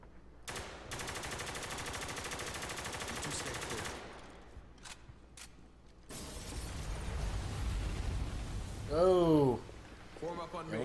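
Rifle gunfire in the video game Spec Ops: The Line, long rapid automatic bursts, then a pause, two single shots, and a heavier stretch of firing and impacts, with a voice speaking in between.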